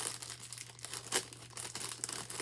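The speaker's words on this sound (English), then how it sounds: "I'm just gonna fold it and tape it." Plastic blanket packaging crinkles and rustles as it is folded and taped, with a low steady hum beneath and a sharper crackle partway through, close and fairly quiet.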